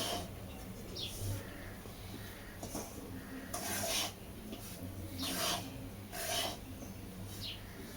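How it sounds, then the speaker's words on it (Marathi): Semolina being dry-roasted in a pan for karanji, with faint intermittent scraping strokes of a spoon against the pan over a low steady background hum. "रव्याला सारखं हलवत राहावं लागत आहे कारण की ते खाली लागू नये."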